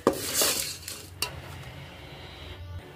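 A spoon stirs chilli powder, salt and turmeric through a pan of vangibath, giving a few close scraping and clinking strokes against the metal over a faint background sizzle, with no talking.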